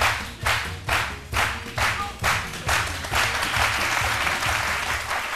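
Studio audience on a French-language midday TV talk show set applauding a guest's arrival, loud sustained clapping that swells in rhythmic bursts and carries through the whole stretch.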